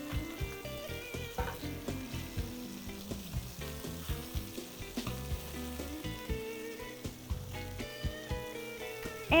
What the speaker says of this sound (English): we're gonna put them in that pan, and we're just gonna char them a little bit just to bring out that corn flavor